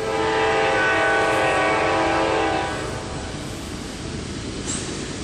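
Norfolk Southern freight train passing close, its loud multi-tone air horn sounding for about two and a half seconds before cutting off, leaving the steady rumble of cars rolling by.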